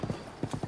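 Quick, close hoofbeats of a horse galloping in Zelda Breath of the Wild, several rapid muffled thuds in an uneven rhythm, faint and brief.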